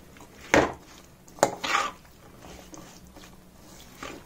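Kachnar pickle with chili stirred in a pan, giving a few sharp metal-on-metal scrapes and clanks of a spoon against the pan, spaced irregularly with quieter moments in between.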